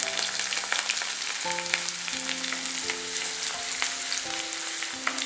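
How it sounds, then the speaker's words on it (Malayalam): Garlic and ginger frying in hot oil with fennel seeds for a Kerala egg roast, a steady close sizzle with fine crackling, unbroken and even throughout, with no voices. "ഇതൊന്ന് നന്നായിട്ടൊന്ന് എണ്ണയിൽ വെളുത്തുള്ളിയും ഇഞ്ചിയും കൂടെ ഒന്ന് മൂപ്പിച്ചെടുക്കണം"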